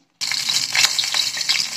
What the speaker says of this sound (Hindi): कढ़ाही में हमने पतंजलि का देसी घी डाल लिया है। अब इसमें हम राई डालेंगे